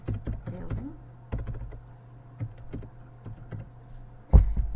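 Keystrokes on a computer keyboard during a classroom mind-map lesson, a run of light irregular taps with short pauses and one heavier thump near the end, close and fairly clear over a faint steady hum.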